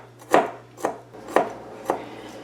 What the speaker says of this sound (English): I'm just going to cut this up.